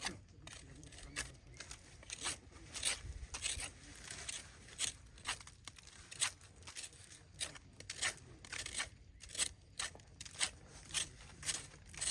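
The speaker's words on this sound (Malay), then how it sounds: "So kita kena buang tempat yang dijangkiti itu. Kikis buang dulu." Infected bark is scraped off the trunk of a mature durian tree with a tool, making a series of quiet, repeated rasping strokes in a steady rhythm outdoors.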